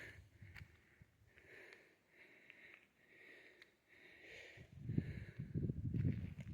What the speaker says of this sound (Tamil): நல்லா மூச்சு வாங்குது எனக்கு